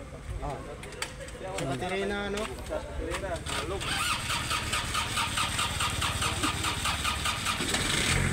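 A Canter truck engine cranks and catches during a test drive, turning over briefly before settling into a steady mid-pitched idle that grows louder, with people talking over it throughout.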